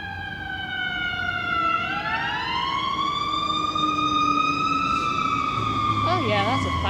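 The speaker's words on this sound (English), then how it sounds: "Oh yeah, that's a fire truck right there." A fire truck siren wails steadily and loud throughout, its pitch sliding down then climbing back as it passes nearby, with faint background talk near the end.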